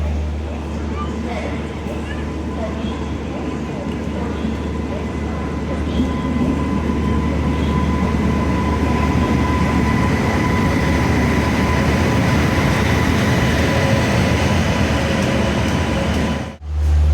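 Nilgiri Express train pulling into Coimbatore station, a steady loud rumble of wheels and carriages running throughout with a crowd murmuring on the platform, ending in a sudden drop near the end.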